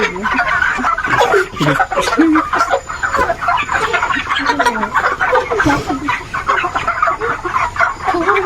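Farm chickens cluck and squawk continuously at close range as a flock is fed, with people talking intermittently over the birds.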